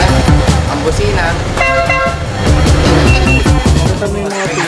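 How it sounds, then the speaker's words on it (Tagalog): A vehicle horn sounds in short tooting blasts close by and loud, over a busy mix of engine noise and background voices. "Yan. Ang busina."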